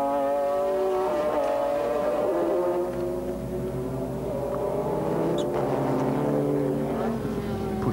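A Bugatti McLaren GT race car screams at speed during a 1996 BPR Global GT Series race at Curitiba, Brazil, its engine a sustained, loud, high-revving drone that shifts pitch slightly as it passes.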